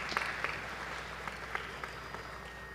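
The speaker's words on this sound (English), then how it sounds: "Let's give a big round of applause for Sri Sigamani Natarajan." Audience applause at a Bharatanatyam arangetram dance recital, a fairly faint, steady patter of clapping from a seated crowd with a few sharper individual claps standing out.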